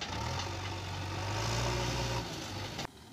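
A tractor pulling a ballast hopper runs in reverse along a new double-line rail track at Deoband, its engine droning loud and steady before cutting off abruptly near the end.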